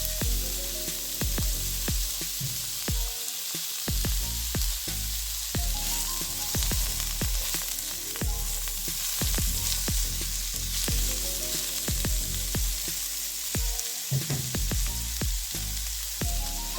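Onions and peppers sizzle loudly in a hot pan, a dense continuous frying hiss broken by repeated stirring scrapes, close and with no talking.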